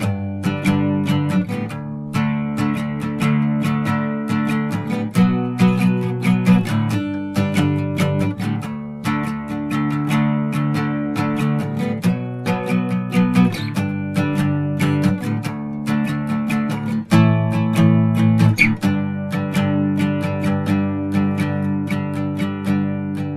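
Guitar plays a chord progression, steady strummed chords with sustained harmonic tones running continuously and alone, fairly loud and close.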